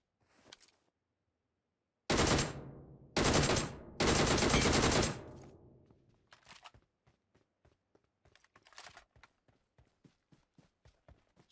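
Saiga shotgun and DP-28 machine gun firing in PUBG Mobile, three loud bursts of gunfire followed by a string of sharper, fainter distant shots spaced out in an irregular rhythm.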